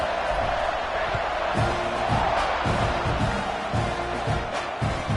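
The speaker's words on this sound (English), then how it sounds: "this crowd is feeling themselves after that last drive" A packed football stadium crowd roars and cheers continuously after a scoring drive, a dense, loud wash of voices with whoops and shouts rising above it.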